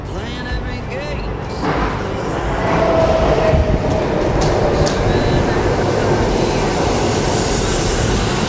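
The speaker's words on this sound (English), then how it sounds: "because here's the train right now" A train in Jamaica rumbles past close by, a steady loud roar that builds after a few seconds and holds with rail noise, and a voice is heard briefly at the start.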